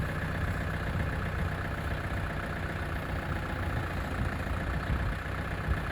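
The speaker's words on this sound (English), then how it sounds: "thank goodness for this beast of a tractor" A steady, low tractor engine rumble idles continuously throughout, loud and close, with no other sounds on top.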